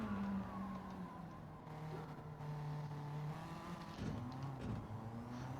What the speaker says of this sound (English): I'm back on the gas and I'm trying to get it out the corner with minimal wheel spin